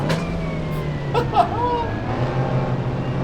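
Mini engine in a VR racing game, running at steady drone on the Nordschleife circuit, with a brief rising whine and faint background motor hum throughout; a voice speaks briefly.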